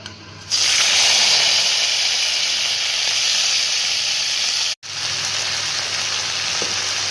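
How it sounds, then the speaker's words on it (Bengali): Yardlong beans hit hot oil in a wok for an aloo barbati sabji, bursting into a loud, steady sizzle that holds throughout with only a brief dip near the end. "কড়াই গরম হয়ে গেছে, তেল দিয়ে দিয়েছি। এখন বরবটিটাকে ভেজে নেব।"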